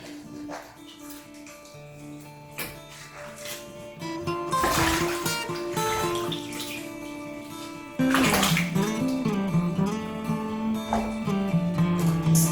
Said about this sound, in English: I'm done washing the pepper, so I have to grind it.